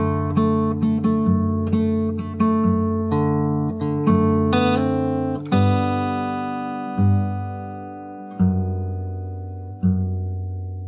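Fingerstyle guitar plays part of a song: plucked arpeggiated chords at a gentle, unhurried pace, then slower sustained chords that ring out. It is close, clean and moderately quiet, and no one speaks.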